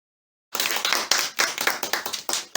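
An audience at a chemistry contest grand finale claps for a winner, a short burst of brisk, fairly close hand clapping starting after a moment of silence and running steadily to the end.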